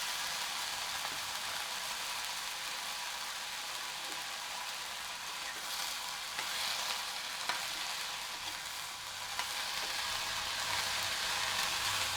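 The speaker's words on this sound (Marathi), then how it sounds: "आता इथे मी मटकी स्वच्छ धुवून निघून ठेवली होती ती घालते" Washed moth beans tipped into a hot pan for matki usal set off a steady, broadband sizzle that holds evenly, with faint stirring scrapes and no voices.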